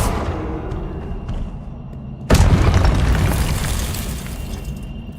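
A Confringo blasting spell from Hogwarts Legacy detonates in one sudden loud explosive boom, after a quieter stretch of game ambience, leaving a sustained rumbling roar that slowly fades.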